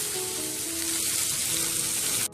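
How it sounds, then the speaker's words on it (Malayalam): Coconut pieces sauté in a hot pan for a beef dish, giving a dense, continuous sizzle that stays close and loud before cutting off abruptly at the end. "അത് നമുക്ക് നന്നായിട്ടൊന്ന് വഴറ്റാം."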